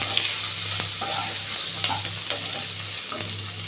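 Spices, sugar, green chillies and tomato paste fry in oil and are stirred around a pan, giving a loud, steady sizzle with intermittent scraping strokes throughout.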